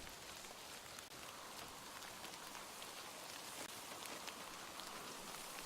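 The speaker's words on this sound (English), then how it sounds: "I do love the rain in this game." Steady rain falls in the video game Metro Exodus, a continuous dense hiss of droplets spattering on surfaces, even and unbroken throughout with no voices.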